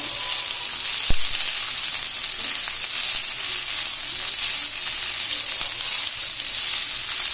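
Cooked rice frying on a high flame for restaurant-style veg fried rice, a steady loud sizzle throughout with one sharp clink of a utensil early on, no voices.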